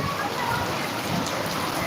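Steady rain falls in a dense, continuous hiss that stays even from start to finish, with no clear voices above it.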